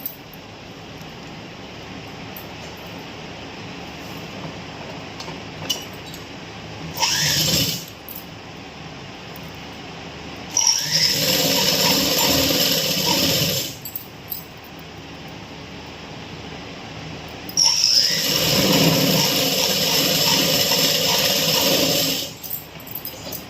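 A sewing machine stitches pajama fabric in a few steady mechanical runs. A short burst comes first, then two longer whirring stretches of several seconds each, separated by quiet pauses.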